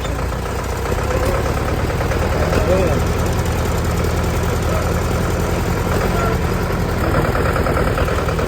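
A Mahindra tractor pulling a plough toward a village, its engine running at a steady, loud, rumbling idle-like throb throughout, close by, with a faint voice underneath.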